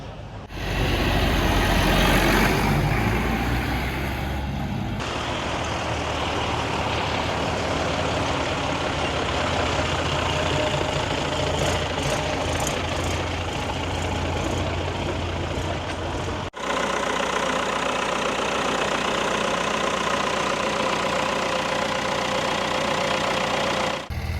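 An old John Deere-style 4020 diesel tractor runs at a vintage machinery show in Switzerland, its engine a loud, steady, rough knocking rumble that continues throughout with brief shifts in tone.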